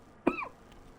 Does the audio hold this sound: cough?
yes